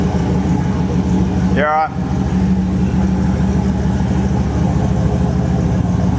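A Holden VZ SS Turbo idles with a steady, rumbling engine note close by. A brief spoken question cuts in over it near the start, and the idle carries on unchanged afterward.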